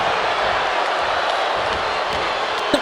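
Steady roar of a wrestling arena crowd in WWE 2K23 at a Money in the Bank event, a dense continuous cheer held at even loudness throughout, with one brief sharp thud near the end.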